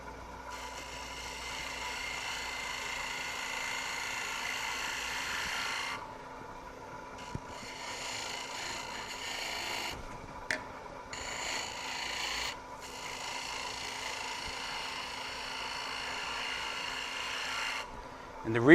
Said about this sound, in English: take a freshly sharpened gouge and I save that just